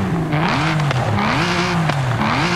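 A modified car engine in Forza Horizon 5 revs loudly and up close, its pitch climbing and falling in repeated surges through gear changes, with tire noise mixed in.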